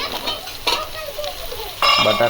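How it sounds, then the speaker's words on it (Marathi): Coarsely chopped potato and fresh coriander are stirred and sautéed in oil in a pan for Nilanga rice, with a soft sizzle and spatula scraping, louder stirring near the end. "थोडंसं परतून घेणार आता त्याला"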